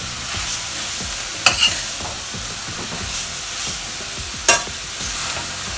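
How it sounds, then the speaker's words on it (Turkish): Mushrooms and almonds sauté in a pan, a steady close sizzle and hiss with a spoon stirring through them and a couple of sharp scraping knocks against the pan. "sürekli karıştıralım ki bademlerin, kavurmanın lezzeti birbirine karışsın mantarlarla birlikte"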